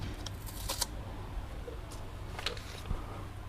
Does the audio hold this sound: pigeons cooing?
no